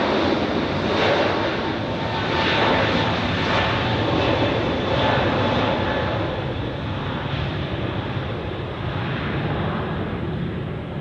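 Emirates airliner taxiing at Zurich Airport, a steady broadband engine roar held at constant loudness throughout, with wind rumble on the microphone and no voices.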